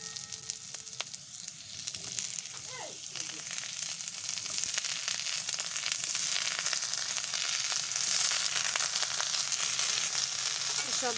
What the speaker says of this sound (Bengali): তো এর মধ্যে আমি এবার ঝিঙেটা দিয়ে দেবো